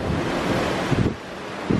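Ocean waves wash and crash steadily at night below a cruise ship, heard as a continuous rushing surf with wind buffeting the microphone.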